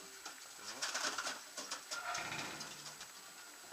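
Two male racing pigeons, brothers kept in a loft in Serres, Greece, coo softly and repeatedly at close range, with rustling and a voice talking intermittently underneath.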